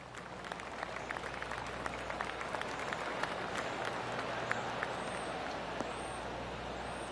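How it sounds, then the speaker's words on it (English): A golf crowd in the PGA 25 video game breaks into steady applause after a shot on a par-4 hole. The dense patter of clapping stays moderately faint and even throughout, with scattered sharper claps. "Oh, golf clap."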